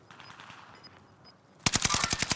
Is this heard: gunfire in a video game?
yes